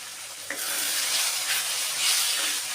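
Spices such as turmeric and chilli powder sizzle in a pan for beef khichuri, a steady bright hiss with a small knock near the start as they are stirred, continuous and moderately loud with no talking.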